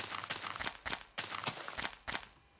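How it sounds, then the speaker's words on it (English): Old Minecraft beta footsteps crunch in a quick, even rhythm, with about seven or eight close, crisp steps running through short walking bursts and no talk over them. "And there's the old footstep sounds."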